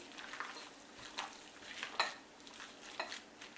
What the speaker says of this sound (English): Mix it thoroughly.